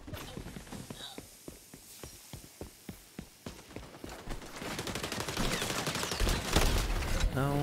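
Rapid bursts of automatic gunfire in the online shooter XDefiant, with steady evenly spaced shots that grow denser and louder into overlapping fire toward the end.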